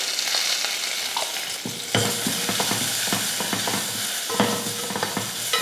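Steady sizzling and crackling of mustard seeds and curry leaves frying in hot oil, with small pops and occasional stirring clinks close by.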